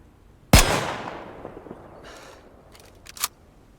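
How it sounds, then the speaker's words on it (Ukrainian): A single sharp, loud sniper rifle shot in the video game DayZ with a long echoing tail, followed a few seconds later by fainter clicks and a smaller crack. "Зараз буду стріляти."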